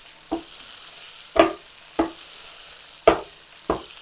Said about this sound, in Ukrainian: І коли смажите, обов'язково підливайте